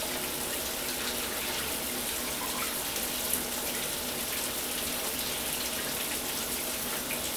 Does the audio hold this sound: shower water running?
yes